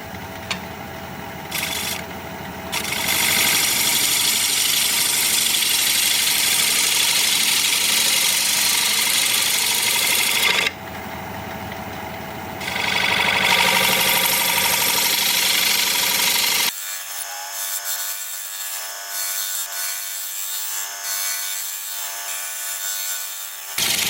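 A wood lathe spins at 750 RPM while a 5/8 inch bowl gouge shapes a wooden candy dish, giving a steady grinding cut with short pauses as the tool lifts, then a quieter motor hum after the cutting stops.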